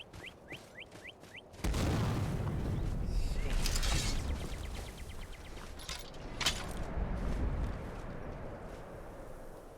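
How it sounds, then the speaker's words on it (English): In a war video game, explosions boom near a military camp, a heavy burst followed by rumbling blasts and debris over several seconds, with ticking mechanical sounds before and scattered pops through the din. "we're getting explosions in or near the camp"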